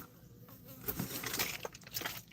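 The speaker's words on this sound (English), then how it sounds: "Busy bee." A bee buzzes close by, its droning hum rising and falling in short swells over about two seconds, with no talking.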